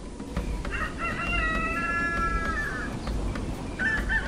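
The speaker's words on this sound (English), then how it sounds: "It wasn't long before the rooster did indeed crow" A rooster crows a long, drawn-out call over a noisy outdoor background, followed by the start of another crow near the end.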